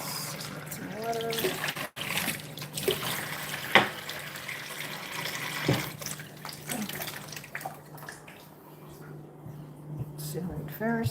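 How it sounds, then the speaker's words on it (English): Water runs from a tap into a container during a Nigerian cochineal cactus care session, a steady splashing under frequent nearby talk, with a few brief clinks. "Let's get some water."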